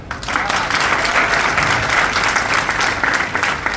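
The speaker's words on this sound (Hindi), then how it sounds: "कितने हजारों लोग बैठ लिया यहाँ पे ताली बजा रहे हैं" Applause from a large audience of thousands, a dense, loud, continuous roar of clapping filling the hall at a motivational speech event.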